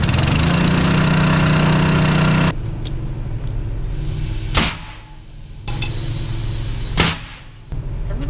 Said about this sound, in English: The problem with these crappy little gas engines is they just never work.